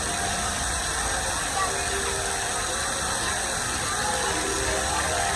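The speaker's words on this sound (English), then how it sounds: "You're probably now hearing the loud noise of the fan. It probably sounds like a jet engine to you guys." A loud electric fan runs close to the microphone, giving a steady, dense roar with a low rumble that holds unchanged throughout.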